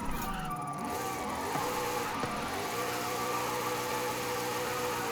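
A drift car in Forza Horizon 5 accelerating hard, its engine revving loudly and continuously with shifting harmonic whine and brief pitch dips, close and steady with no voices.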